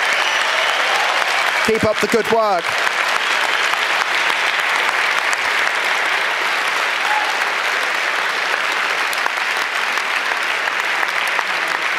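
Conference audience applause for a speaker, loud sustained clapping from a large crowd filling the whole stretch, with one voice calling out briefly early on over it.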